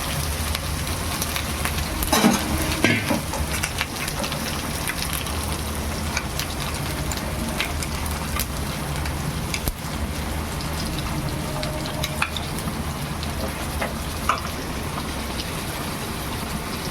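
Tomato, cumin and coriander paste sizzles steadily in hot oil in a pan, a dense continuous crackle with a few louder spits near the start, with no talking.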